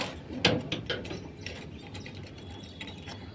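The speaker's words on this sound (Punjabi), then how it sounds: "ਤੇ ਖੋਲਦੇ ਆ ਇਹਨਾਂ ਦੇ ਜੰਦੇ" A padlock on a rooftop pigeon coop is worked open, with a few sharp metallic clicks and rattles close by, then quieter fumbling.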